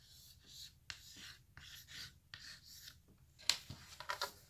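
Chalk scratching a heart onto a chalkboard made from an upcycled Dollar Tree charger plate, short close strokes of rasping friction in bursts separated by pauses, with brief sharp taps near the end.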